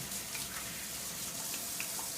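Hot tap water runs into a kitchen sink while hands are washed during bread making, a soft continuous splashing stream with faint clinks, fairly quiet.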